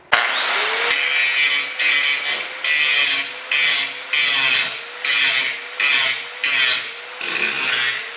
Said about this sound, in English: we're going to get the grinder out. We're going to grind down these hideous welds